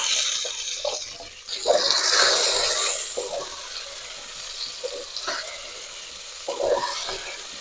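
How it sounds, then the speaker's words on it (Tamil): Elephant foot yam cubes sautéing in a pan with softened onion and tomato for a Pongal-style black-eyed pea curry, a steady close sizzle with scraping stir strokes and brief louder bursts. "இப்போது இதில் சேர்த்து வதக்கிக்கலாம்."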